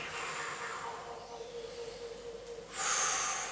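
A forceful exhale during an abdominal and back strengthening exercise, a breathy rush of air that swells near the end after quieter breathing, close and alone.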